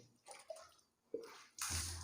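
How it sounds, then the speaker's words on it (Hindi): Water poured over the left shoulder during a ritual bath, splashing in three separate bursts with quiet gaps between, the last pour louder and fuller. "3 बार आपको बाएं कंधे पे पानी बहाना है"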